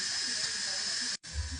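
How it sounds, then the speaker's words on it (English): Steam hisses loudly and steadily from the vent of an Instant Pot pressure cooker during a manual release after cooking ribs, a near, continuous rush that cuts off briefly before resuming more faintly. "Now I will release the steam so that I can open it up safely."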